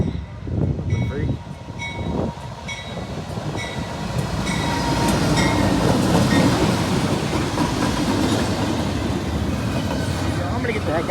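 A CSX SD70M locomotive rolls past in Muncie, Indiana, a steady loud rumble of rail cars building and holding throughout, with faint tonal whines and a few muffled voices near the start.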